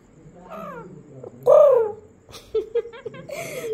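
A parrot imitates a crow's harsh caws, giving a few loud, separate calls with short pauses between them.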